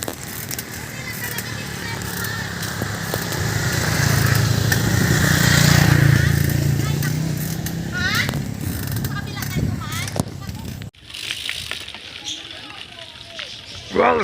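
A motorcycle passes during a camp outing, its engine rising from a low rumble, peaking near mid-clip and fading away as people talk and move nearby.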